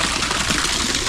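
Heavy rainwater rushing past a village road in Kenya, a steady broadband gush close up and loud, with no voices.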